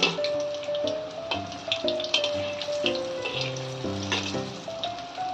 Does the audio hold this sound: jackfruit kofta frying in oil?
yes